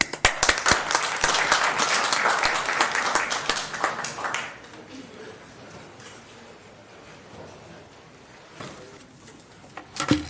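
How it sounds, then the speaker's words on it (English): Applause from the audience at a city housing authority meeting: dense clapping for about four seconds that fades out, then a quiet room with a few scattered claps near the end. "Give him a applause."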